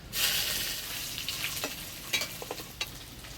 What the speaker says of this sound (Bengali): এবার ডালে ফোড়ন দিব শুকনো লঙ্কা, তেজপাতা, পাঁচফোড়ন আর থেতো করা আদা।